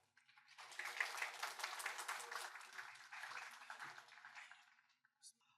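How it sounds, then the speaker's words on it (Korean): Audience applause at a corporate conference on cloud computing and financial compliance, welcoming a speaker from a law firm to the stage; steady dense clapping for about four seconds, fading out, then a brief final clap. "박수로 무대로 모시도록 하겠습니다"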